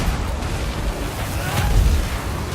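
Trebuchets and cannons firing in a Total War: Warhammer battle between the Empire and Bretonnia, giving a dense, continuous rumble of booms and impacts with a heavier burst near the end and no clear voices.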